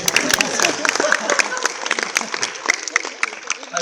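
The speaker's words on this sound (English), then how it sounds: "There we go, 3 people clap, that's enough for me." A handful of audience members at a conference talk clap sparsely, distinct individual claps in an uneven rhythm, with background chatter and voices mixed in around them.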